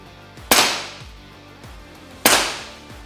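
Two sharp, loud cracks from an Air Venturi Avenger air rifle fired at a target, spaced under two seconds apart, each with a short decaying tail and faint clicks between shots.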